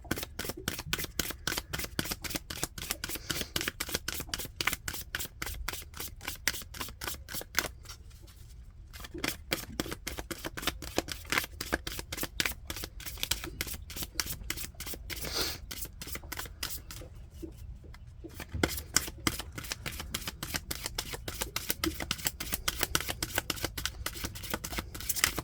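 Tarot cards are shuffled over and over in quick, close, crisp riffling bursts with two brief pauses, and no talking is heard.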